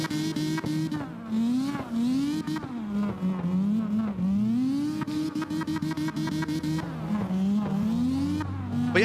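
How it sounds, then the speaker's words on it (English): A Mazda RX-8 drifting along an outside wall in a racing game, its engine holding a steady wavering drone with rising and falling pitch swings as tires squeal, with sharp clicking ticks scattered throughout. "Look at that RX-8 right up there on the outside wall"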